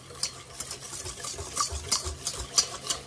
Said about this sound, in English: Now, let's get this stirred up